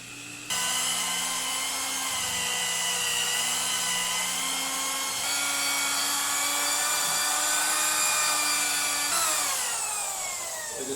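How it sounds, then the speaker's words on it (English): Power drill spinning a polishing pad over scratched car window glass, a steady high whine that holds for about ten seconds before pitch sliding near the end, loud and close with no talking. "I'm letting the drill do most of the work."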